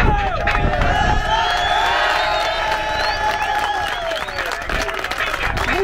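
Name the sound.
audience applause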